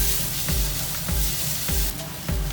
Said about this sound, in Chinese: 把汁儿倒进去，这儿要分次加进去，一边加一边搅散面